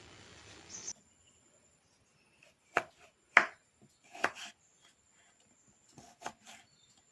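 A knife chops tender jackfruit into long strips in short, sharp strokes on a board, a few isolated cuts and a quick cluster, in an otherwise quiet room.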